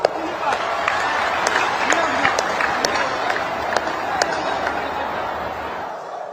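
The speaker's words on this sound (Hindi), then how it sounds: "हो जाए ताली आज आपके नाम पर।" A big audience, apparently at an Assam political rally, claps steadily in a dense, continuous wash of applause, with crowd voices mixed in and sharp individual claps standing out.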